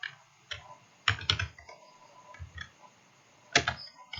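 Keys being typed on a computer keyboard while entering an IPv6 route command for EIGRP in a networking simulation, a few sparse clusters of quick clicks with pauses between, close and fairly quiet.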